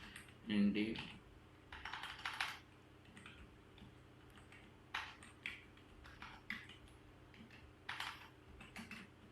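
Typing on a computer keyboard while working in Microsoft Word, faint scattered key clicks in short bursts with soft pauses, under occasional quiet talk in Hindi.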